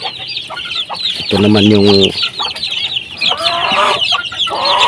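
Broody hens clucking among a large brood of chicks, close and loud, with repeated short clucks and a brief harmonic call, under someone speaking Filipino.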